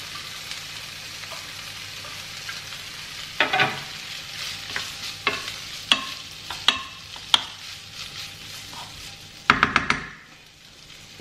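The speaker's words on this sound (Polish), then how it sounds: "Przesunę Was tutaj na moją kiełbaskę i ona już tutaj mi zaczyna się podsmażać." Sausage frying in a pan with a little added oil, a steady close sizzle punctuated by a series of sharp clacks and knocks of utensils against the pan, ending with a cluster of clatter before the sizzle fades.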